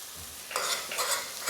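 Ketchup stirred into food frying over medium heat in a pan with black pepper: a low sizzle, then two loud scraping, sloshing stir strokes close by, with no talking.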